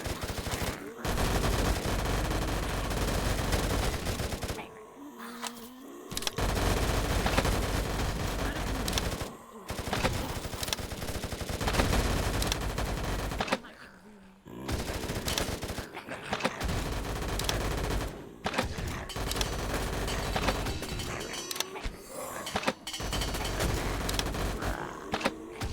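Rapid bursts of automatic gunfire in VRChat, dense and loud, firing in long sustained volleys broken by a few brief pauses, with faint voices underneath.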